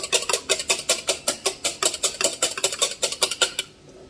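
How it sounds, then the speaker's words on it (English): Two eggs whisked in a bowl, a fork or whisk clicking fast and steady against the sides, about five strokes per second, close and clear for several seconds before stopping. "So I'm just going to whisk this together."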